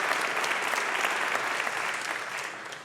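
A college convocation audience at Lehman College in 2019 gives dense, steady applause that fills the whole stretch, loud and even, easing slightly at the end.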